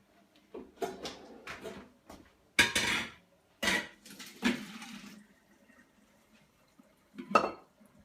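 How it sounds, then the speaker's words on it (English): Cooked sweet potato and butternut squash are tipped into colanders to drain, giving scattered clanks of metal and pan, brief watery splashes and knocks with quiet gaps between. "So what we'll do, we will take these colanders and we'll drain it."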